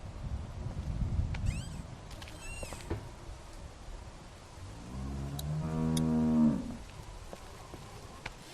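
A skinny cow in The Walking Dead video game gives a single long, close moo, preceded by faint ambient rustle and muffled background sounds.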